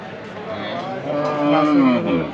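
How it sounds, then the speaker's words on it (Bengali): Cattle mooing at a busy livestock market in Madhabpur, Habiganj, Bangladesh, a long drawn-out low call rising over a steady crowd murmur. "সব ধরনের গরু বাছুর উঠেছে"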